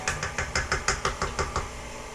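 Electric mixer beating cream puff batter in a bowl, a steady run of rhythmic whirring thumps, about nine evenly spaced pulses, close and fairly loud with no talking.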